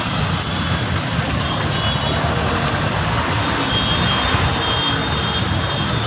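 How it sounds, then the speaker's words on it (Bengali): A dense, continuous roar of jammed traffic on a rain-flooded road, engines idling and rumbling together in a steady broadband wash with no break. "এই যে দেখুন কত গাড়িগুলো আছে এখানে"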